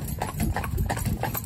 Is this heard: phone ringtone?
no